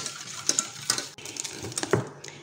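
Spoon scraping and clinking against a pot while a yogurt cream mixture is stirred on the stove, a few distinct knocks and scrapes over a soft background, no talking.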